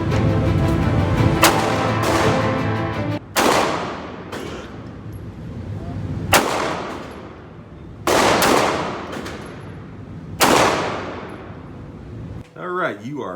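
Five loud gunshots ring out one after another at an Illinois concealed carry range, each sharp crack followed by a ringing decay, spaced a few seconds apart, with faint talk in the background.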